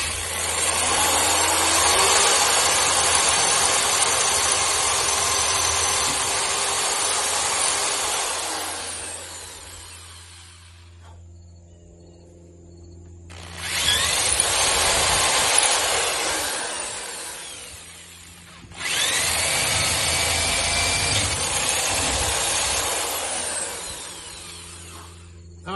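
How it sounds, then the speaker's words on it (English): A small power drill tightens a fastener on an aluminum part of a 1973 Charger, running in three long, loud bursts with brief pauses between them and no talk. "this little drill don't want to tighten up"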